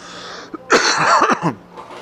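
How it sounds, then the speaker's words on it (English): A short burst of harsh, rasping coughs, loud and close, with no talking. "I gotta cough some more."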